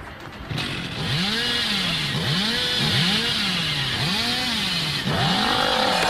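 Close, loud chainsaw revving from the survival horror game Dead by Daylight, pitching up and down in even, repeated waves over a constant mechanical drone.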